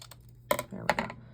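Scissors trimming a handmade card's sentiment panel, giving two short, close snips about half a second apart in a quiet room.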